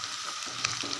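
Homemade hair oil bubbles and sizzles steadily in a pan on a stove over high heat, a close, continuous crackling hiss with no talking.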